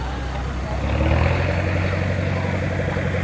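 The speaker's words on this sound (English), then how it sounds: "An old Case tractor." An antique 1930 Case tractor with a hand crank on the front runs its engine in a hometown fire parade, a steady low rumble heard close and fairly loud over crowd ambience for a few seconds.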